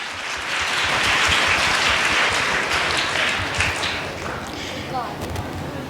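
Loud, dense applause from a studio audience at a Chhattisgarh state-level quiz contest rewards a correct answer, swelling early and then holding steady. A few scattered thumps and voices come through.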